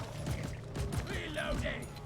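A weapon is reloaded in the Deep Rock Galactic video game, heard as a few quick mechanical clicks and metallic clunks in a short rhythmic sequence, close up, with game sounds in the background.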